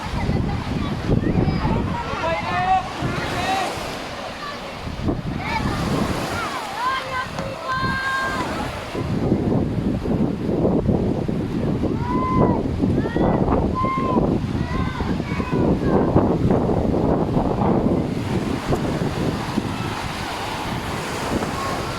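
Strong wind buffets the microphone beside the sea at Agno, Pangasinan, with surf rumbling underneath and people talking over it throughout.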